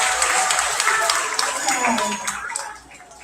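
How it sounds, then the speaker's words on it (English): An audience claps for a police canine demonstration with dogs Maverick and Yoda at a summer school graduation. Steady, dense applause, loud at first and thinning out toward the end. "How about another round of applause for them?"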